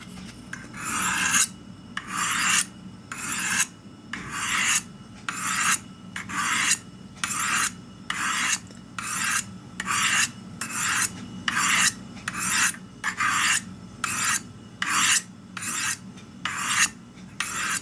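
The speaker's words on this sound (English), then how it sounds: "you want to hold the knife straight, then just run it down the stone" A knife blade drawn down Spyderco Sharpmaker ceramic stones, steady repeated rasping strokes roughly one per second, close and clear with short gaps between each pass.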